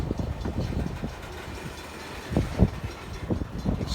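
A freight train hauls ahead close by, with low rumbling and a run of uneven clanks and knocks from the cars as it picks up.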